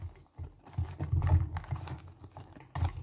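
Oracle cards are shuffled by hand in short, uneven bursts of papery riffling and tapping, close and fairly quiet, with no talk.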